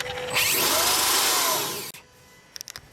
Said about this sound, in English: Now that was the sound of the Supercharger operating.